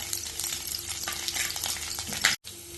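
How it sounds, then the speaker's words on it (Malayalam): Ginger, green chilli and curry leaves sautéing in a pan for pineapple pickle, a steady close sizzle with stirring scrapes throughout and a brief cut near the end. "ഒരു ചെറിയ കഷ്ണം ഇഞ്ചി ചെറുതായി മുറിച്ചതും 1 പച്ചമുളക് മുറിച്ചതും കുറച്ച് കറിവേപ്പില ഇട്ട് വഴറ്റാം."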